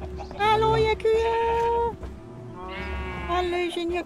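Cows mooing in the Minecraft video game, several drawn-out moos in close succession, loud and near, with a quiet background.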